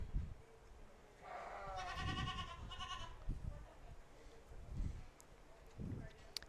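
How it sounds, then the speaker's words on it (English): Market lambs bleat at a county fair livestock show in Las Animas County, a few wavering cries heard at moderate distance under a commentator's ongoing talk and crowd murmur. "Cooper, Jora, and Riggin there with the market lambs"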